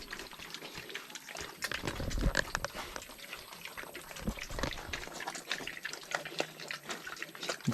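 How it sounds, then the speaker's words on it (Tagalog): Piglets grunt and snuffle while feeding at a farm trough, a busy stream of short, close grunts mixed with wet slurping and sloshing of liquid feed. "Ayan yung mga biik."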